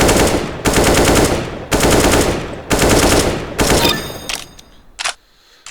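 Rapid automatic gunfire from a video game aim trainer for practising weapon spray patterns, loud and close, in four sustained bursts followed by a few short clipped shots that trail into quiet.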